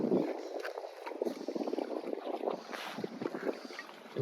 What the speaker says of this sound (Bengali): এবং শুধু জলের শব্দ।